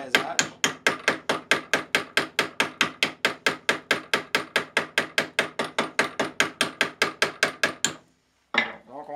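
A real hammer strikes a metal rod about thirty times in a steady, fast rhythm, rounding off its corners in a woodworking shop while making a pepper mill; the blows are close and loud, then stop before a final brief clatter.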